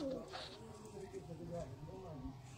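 Rampuri pigeons coo in low, soft repeated calls at close range, mixed with rustling and someone talking over them throughout.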